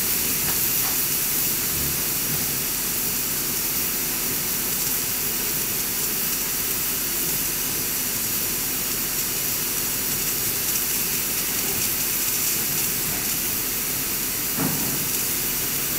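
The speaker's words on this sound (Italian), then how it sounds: "Stava tentando di cuocere con la pinza un maccherone sul vapore." Steam hisses steadily from cookware as a single macaroni is held over the vapour with tongs. The hiss is loud and continuous, with no talking, and there are a few small knocks near the start and close to the end.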